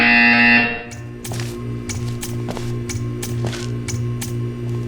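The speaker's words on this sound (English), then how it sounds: "You will hear a buzzer." A loud, harsh electronic buzzer blares in the video game Portal 2 for under a second. A series of sharp mechanical clicks and clatters follows over a steady low hum.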